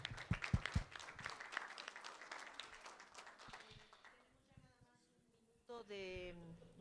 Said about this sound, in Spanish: pues un aplauso para Vicky